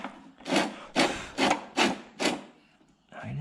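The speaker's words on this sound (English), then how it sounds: "let's rip this down to 9 3/4 for the first pass" A saw rips along a wooden board for a shed build, five loud, close rasping strokes in steady rhythm, followed by a short pause and the start of another stroke.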